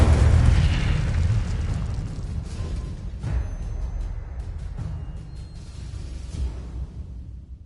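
An Incendio fire spell goes off in the Hogwarts Legacy video game on PS4, a heavy booming burst up front that rolls into a long fiery rumble, with a few smaller pops and whooshes trailing off.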